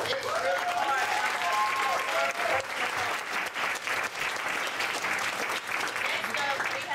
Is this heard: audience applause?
yes